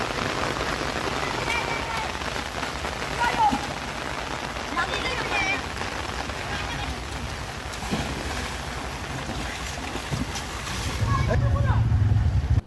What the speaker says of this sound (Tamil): ஒரு சின்ன மழை.